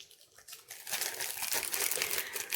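A small sheet of plastic shaker foil crinkles as it is handled, with a soft start and then steady close rustling, no voices.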